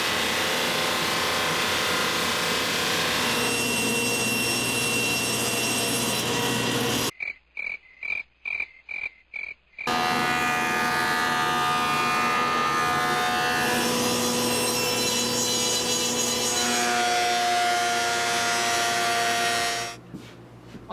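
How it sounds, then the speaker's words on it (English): A drum sander flattens glued-up wood panels for a display cabinet, giving a steady loud grinding drone that breaks off partway through for a few seconds of stuttering quiet, then runs on again before stopping near the end. "to get these panels flat and remove the little glue line that I have, I'm using the drum sander."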